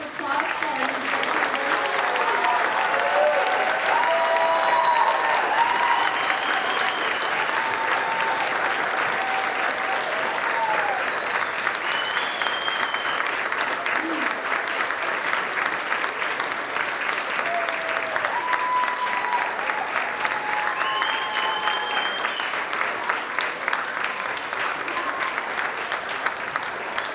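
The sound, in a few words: applause for new nursing graduates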